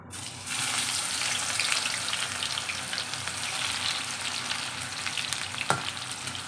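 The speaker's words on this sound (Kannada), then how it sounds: "ಎಣ್ಣೆಯಲ್ಲಿ ಹಾಕೊಂಡು ಚೆನ್ನಾಗಿ ರೋಸ್ಟಾಗಿ ಫ್ರೈ ಮಾಡ್ಕೋಬೇಕು" Round slices of bitter gourd roast in oil in a pan, with a loud, dense, continuous sizzle and crackle that starts abruptly and holds steady. One sharp knock lands near the end.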